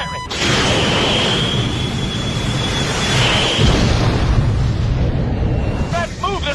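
A missile fired from a fighter jet in a film sound effect launches with a loud, sustained rushing roar under a high whine, close and dense, trailing off while distorted voices come in over a radio near the end.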